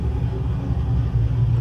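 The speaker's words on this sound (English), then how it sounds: "That's a car." A car passing outside makes a steady, loud low rumble that holds through the short moment, with no voices over it.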